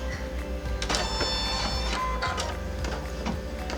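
An embroidery machine stitches out a placement line for a poppies gift bag, producing a steady mechanical whir with rhythmic ticking and short bursts of needle movement.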